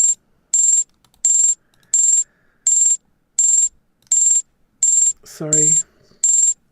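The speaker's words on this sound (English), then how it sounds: "The alarms work." A crypto price alarm on a trading live stream beeps in ten evenly spaced, sharp electronic bursts, loud and close, while a voice briefly speaks between two beeps.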